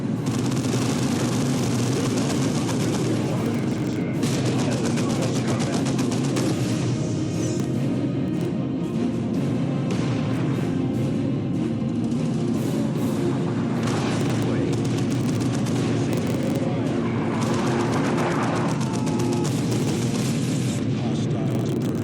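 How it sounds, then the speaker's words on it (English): Artillery barrage in the Dawn of War 2 video game: loud, continuous rumbling booms and blasts rolling through the whole stretch, layered with battle noise and game voices. "Another barrage!"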